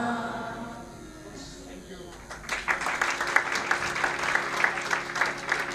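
Devotional chanting fades, then an audience at a religious discourse gathering breaks into sustained, close clapping that runs to the end, with a voice heard alongside.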